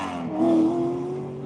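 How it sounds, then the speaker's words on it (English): A Chevrolet Corvette launches off the starting line at a drag strip, its engine note climbing in a strong, fairly close rev that swells briefly and then settles into a steady drone. "Decent getaway from the Corvette."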